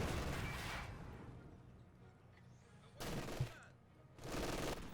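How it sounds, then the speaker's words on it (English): An MG42 machine gun fires in Company of Heroes 2: two loud, dense bursts of rapid gunfire, one at the start and another later, separated by a quieter battlefield lull with distant shots. "Wait, is that an MG42?"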